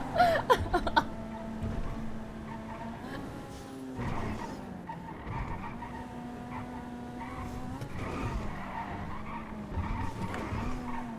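Tires screech repeatedly as a car engine revs and races in GTA V, with sharp skids every few seconds over a steady motor drone.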